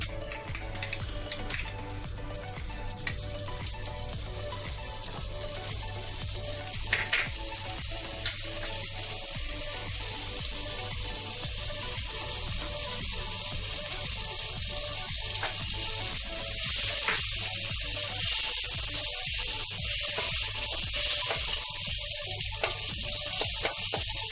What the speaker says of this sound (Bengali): এবার আমি বাটারটা কড়াইতে দিয়ে দিলাম